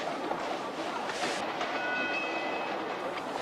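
Train rolling along rails in the Hardy Boys Mystery on Avalanche Express game, a steady broadband rumble with a faint high whistle-like tone briefly surfacing midway, continuous and moderately loud with no talk.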